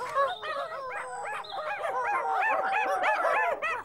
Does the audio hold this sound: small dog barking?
yes